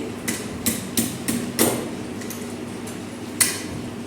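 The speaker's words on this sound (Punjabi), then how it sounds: "ਹੁਣ ਇਹਨੂੰ ਕੱਟ ਲੈਣਾ ਅਸੀਂ ਤੇ ਦੇਖੋ ਇਦਾਂ ਕੱਟ ਲੈਂਦੇ ਹੁੰਨੇ ਆ" Raw mangoes are cut up for pickle in a home kitchen, giving a series of sharp knife chops against a hard surface in an uneven rhythm, about seven distinct close knocks with short gaps and no talking.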